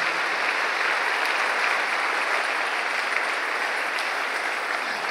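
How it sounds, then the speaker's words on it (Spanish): Steady, dense applause from a church congregation fills the space, even and sustained throughout with no talking over it. "Dale un aplauso al Rey."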